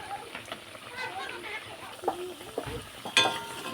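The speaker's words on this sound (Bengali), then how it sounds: "তেল গরম হয়ে গেছে, দিয়ে দিচ্ছি পরোটাটা।" Paratha frying in hot oil in a wok, a soft continuous sizzle with faint spatters and a few clinks of a utensil, fairly quiet and close.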